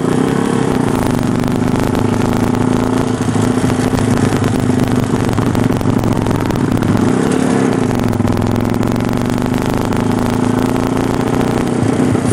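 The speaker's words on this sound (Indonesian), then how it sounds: "Enak motornya, enak suaranya, menggelegar." A Yamaha Scorpio bobber motorcycle engine rumbles loudly and close, holding a throaty idle with a couple of brief swells in revs.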